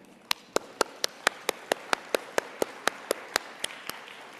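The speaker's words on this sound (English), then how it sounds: "Let's give them a well-deserved round of applause before we begin." Isolated claps at an awards of excellence ceremony for real property practitioners, a single sharp, evenly spaced clap repeating about four times a second, crisp and fairly near in a quiet room.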